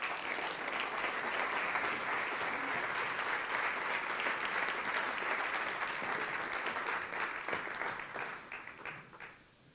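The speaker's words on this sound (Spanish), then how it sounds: "Un fuerte aplauso para ella." An audience applauds at the CRIS 2021 awards gala: dense, sustained clapping from a large crowd that carries on evenly, then thins and fades toward the end.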